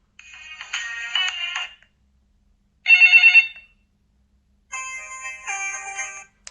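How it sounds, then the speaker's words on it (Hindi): Default call ringtones on a Gionee Q26 feature phone play as three separate electronic melodies, each a short burst of bright tones separated by silence, loud and close with no talking. "इस डिवाइस के अंदर जो बाय डिफ़ॉल्ट रिंग टून्स डाली गई हैं, कॉल रिंग टून्स"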